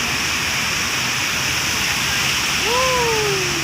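Floodwater pours steadily across a flooded parallel road and into a side lane in Khlong Luang, a loud continuous rushing wash with a brief tonal whine rising near the end.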